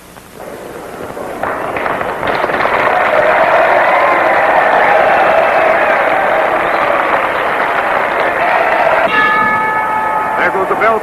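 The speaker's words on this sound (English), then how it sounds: "There goes the bell for the main event." A ringside bell clangs to open a wrestling main event, rising near the end over the loud, steady roar of a packed arena crowd that fills the whole clip.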